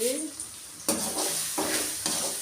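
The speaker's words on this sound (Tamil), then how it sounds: "மிக்ஸ் பண்ணிக்கலாம்" Chicken curry stirred in a pan just after coriander powder and garam masala go in, a constant loud sizzle with several distinct scraping stirs, close, no talk.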